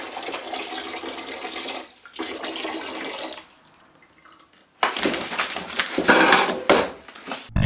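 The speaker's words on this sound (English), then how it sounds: "Wash up." Washing up dishes under running water, with bursts of tap water and splashing broken by quieter gaps and a few knocks, close and fairly loud, with no talk.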